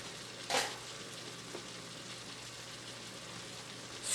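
Peppers fry in a hot pan with a soft, steady sizzle, close and fairly quiet, with a light clatter of a utensil near the start.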